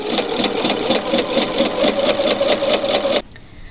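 A sewing machine stitches around the edge of a fabric pillow sham, a rapid, even mechanical whirring with a rhythmic needle pulse that runs steadily and then abruptly stops near the end.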